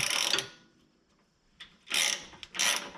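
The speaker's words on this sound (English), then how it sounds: "I'll tighten this up with the ratcheting wrench first" A ratcheting wrench tightens the differential drop nuts on an FJ Cruiser or 4Runner, sounding as short bursts of quick close-up clicking separated by pauses.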